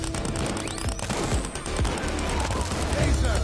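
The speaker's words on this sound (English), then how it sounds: "I hear some cannon going on." Cannon fire in a PS4 video game booms in repeated, overlapping blasts amid a busy loud battle din, with voices talking over the noise.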